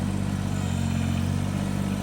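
A tractor engine runs steadily through land prep work with a grapple, a close, loud, even low drone with mechanical clatter and no pauses.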